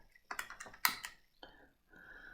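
Keys pressed on a handheld calculator while entering a circle-area calculation, a quick cluster of light taps followed by a couple of separate presses, close by and fairly quiet.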